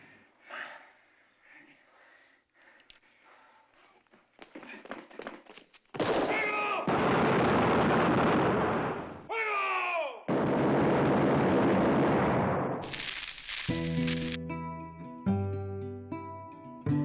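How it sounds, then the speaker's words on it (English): Loud, sustained bursts of gunfire from a western film crackle and boom for several seconds, followed by a swelling orchestral music cue. "The film ends with the sound of gunfire on a freeze-frame shot of the two bandits."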